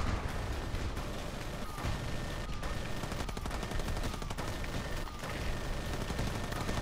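A turret fires in the game R.I.P.D. The Game, producing dense, rapid bursts of gunfire over a loud, cluttered mix of combat sounds and music for several seconds.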